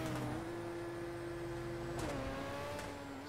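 In the game GTA 5 Online, the Declasse DR1 F1 race car's engine holds a steady high-pitched whine, then its pitch shifts down once near the end, sounding constant and fairly close with no talking.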